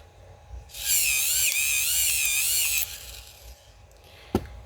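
A pencil is turned in a mechanical sharpener, a bright whirring grind lasting about two seconds under quiet room tone, followed by a faint rattle and a single sharp click near the end.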